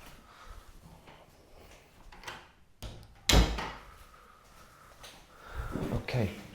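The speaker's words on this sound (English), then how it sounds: "So let me just close my door." A room door is pulled shut with one sharp thud partway through, amid faint rustling and handling noises before and after; no talking.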